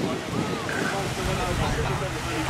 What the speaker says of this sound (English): this is a really nice little beach